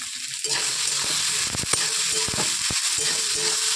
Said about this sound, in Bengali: মশলাটা এখন ভেজে নিচ্ছি দেখো এই যে সোয়াবিন কষাচ্ছি